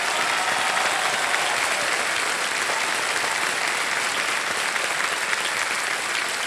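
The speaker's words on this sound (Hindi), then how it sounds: "जोरदार तालियां बज जाए सर्वेश के लिए।" Studio audience applause on the KBC (Kaun Banega Crorepati) quiz show, a dense, steady wash of many hands clapping that fills the room at full volume and continues without a break.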